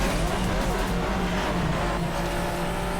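Pagani Utopia supercar engine in the racing game Asphalt 8, a steady loud roar sustained throughout at close range, with faint speech behind it.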